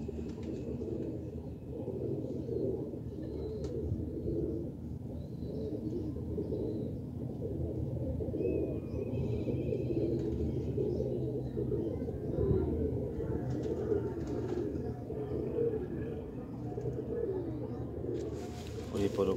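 Birds cooing steadily, pigeons high flyer type of the Firozpuri breed kept in a loft, with soft low calls running throughout over a busy background, and someone talking at intervals.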